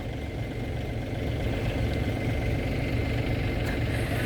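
A farm tractor, about to pull a stuck vehicle, idles close by with a steady, throbbing low rumble and no change in pace. No one speaks.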